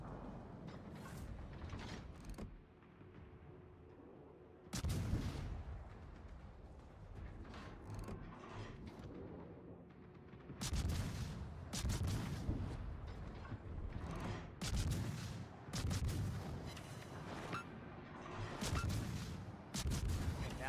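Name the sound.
naval guns firing in the video game World of Warships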